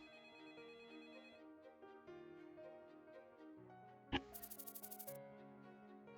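A telephone rings in the video game Troubleshooter: Abandoned Children, a rapid run of about eight bright electronic chirps cutting in over soft background music after a sharp click.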